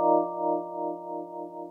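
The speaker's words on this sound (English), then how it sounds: "That sort of wah, wah, wah, wah sound, that's the vibrato that's made by the motor." Vibraphone tones sustaining steadily with a motor-driven vibrato gently pulsing the volume up and down, a clear held chord heard alone.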